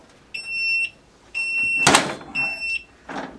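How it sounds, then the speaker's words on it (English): Three steady high electronic beeps from a heat press machine, each lasting about half a second with short pauses between, plus a brief rustling burst, close and clear. "we just wait until the machine beeps."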